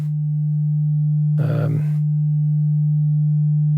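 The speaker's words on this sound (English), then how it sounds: "here's the original sine wave" A raw sine wave from an Instruo Tš-L synth module sounds as a pure, steady, loud low tone throughout, with a brief burst of speech over it midway.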